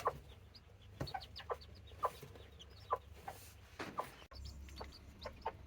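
A Serama hen clucks softly among her day-old chicks, short repeated clucks and faint peeps spaced every second or so, close and fairly quiet, with one sharp knock near the end.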